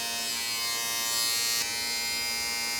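A Manscaped Chairman Pro hair clipper powers on and runs with a steady, close electric buzz and high whine, holding even from start to finish with a slight shift in pitch partway through.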